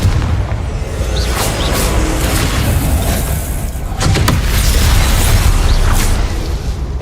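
A Confringo blasting spell in the Hogwarts Legacy video game erupts in loud, rumbling booms and bursts, sustained and heavy across the whole stretch, with no voices.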